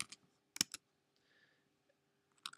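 Typing on a computer keyboard while entering text in a design program: a few sharp, separate key clicks in short bursts with quiet gaps between, close up and fairly soft, no voices.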